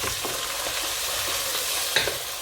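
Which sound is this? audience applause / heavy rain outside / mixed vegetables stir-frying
mixed vegetables stir-frying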